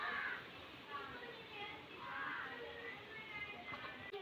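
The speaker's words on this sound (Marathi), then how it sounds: "कावळे पण आलेत." Crows caw in a few faint, distant bursts during windy, stormy village weather, half buried under steady wind noise.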